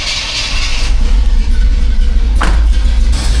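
A cammed Chevrolet C10 squarebody with a Holley carburetor cold-starts with the choke plate closed, a loud close engine rumble that flares briefly partway through.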